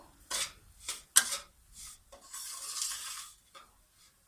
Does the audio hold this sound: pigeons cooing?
no